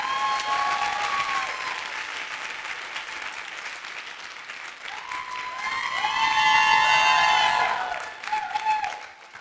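An audience at the BlogHer '12 Voices of the Year event applauds to welcome a reader: steady, dense clapping that swells toward the end before fading, with faint tonal sounds mixed in.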